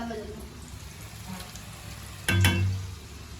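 Chakli dough dropped into hot oil for frying, giving a steady close sizzle that swells sharply as the dough goes in, with faint voices in the background.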